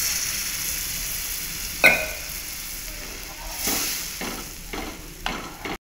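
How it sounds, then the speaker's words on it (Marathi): Hot water poured into simmering spinach curry, a continuous hissing sizzle broken by a sharp clink and several short bursts of bubbling and stirring, close up with no talk. "तर याच्यामध्ये आपण गरम पाणी घालून घेऊ"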